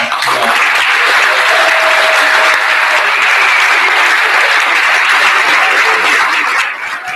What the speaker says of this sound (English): We want to just give one more round of applause to every donor, to every presenter, and to all our graduates